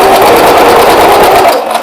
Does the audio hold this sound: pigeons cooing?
no